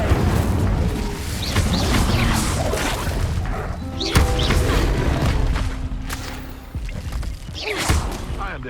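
Spell effects from the Hogwarts Legacy video game, with a fire spell cast amid loud crashing, booming impacts and whooshes in a busy combat mix, with a character's voice shouting over the action.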